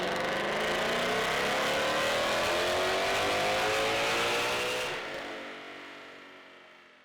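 A supercharged 2020 Shelby GT500KR revs hard on a dyno, a loud, sustained engine roar rising in pitch, then easing off and fading over the last couple of seconds.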